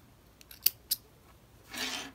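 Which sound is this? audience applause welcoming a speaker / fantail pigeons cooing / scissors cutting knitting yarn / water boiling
scissors cutting knitting yarn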